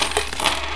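Coins tumbling and clinking in a video game, a short jingling scatter heard at close range with no talk over it.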